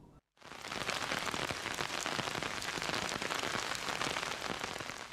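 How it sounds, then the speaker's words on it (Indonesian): Heavy rain pours down at Kuta Beach in Badung, Bali, where surfers stay out on the waves. A dense, steady hiss of downpour runs throughout after a very brief quiet gap at the start, with no talking. "sejak pagi wilayah Badung diguyur hujan deras termasuk di kawasan Kuta"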